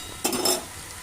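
Salted gourd leaves stirred in a cooking pot, a single brief scraping, rustling pass close by with a faint sizzle beneath.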